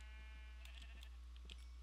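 In the Minecraft video game, purple sheep give a few soft, quick bleats over a constant low hum, fairly faint.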